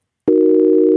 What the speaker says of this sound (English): So we have this sine wave